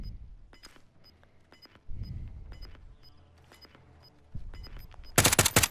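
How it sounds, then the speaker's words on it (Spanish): A few scattered gunshots in a video game, then a sharp, loud burst of rapid fire near the end, over quiet game ambience with faint clicks. "ahí le disparo unos balazos"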